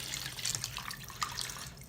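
Hot water streams into a container for a homemade hay fever remedy, a close, continuous splashing pour with small bubbly fluctuations and no talking.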